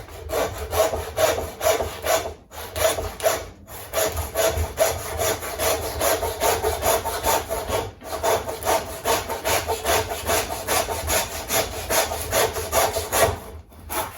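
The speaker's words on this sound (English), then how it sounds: "So now we've sawn through the bone," A saw works steadily through the bone of a double rack of lamb, each stroke rasping in an even back-and-forth rhythm. Brief pauses break the strokes, and the sawing is close and fairly loud with no voices.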